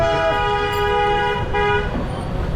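A car horn blares in a long, continuous honk over rumbling traffic noise in Varanasi, India, loud and close.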